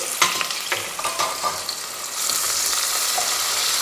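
Thinly sliced onions dropped into hot oil for a mutton curry, a few clatters of stirring followed by a loud, steady close sizzle.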